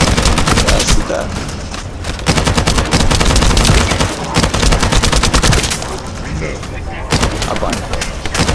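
Loud, rapid automatic gunfire from a sci-fi shooter video game rattles almost nonstop for several seconds, broken by short pauses. The shots sound close and dense, with occasional booms and a voice speaking briefly under them.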